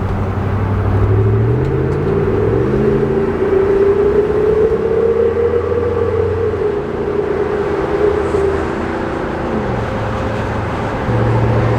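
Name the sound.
V8 SUV exhaust driving on highway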